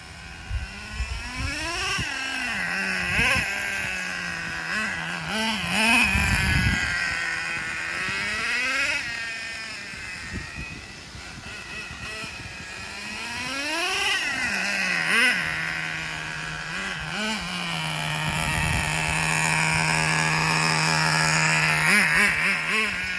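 An HPI Super Nitro RS4 RC car's small nitro engine runs during break-in, buzzing loudly nearby with repeated revs rising and falling, then settling into a steadier idle.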